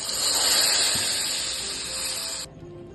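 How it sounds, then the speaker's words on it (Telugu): Hot tempering with asafoetida poured into pumpkin buttermilk curry, giving a loud, steady spray-like hiss that fades, then cuts off abruptly near the end, with no talking. "దాంట్లో గుమ్మడికాయ మజ్జిగ పులుసులో వేసేసుకుందామండి."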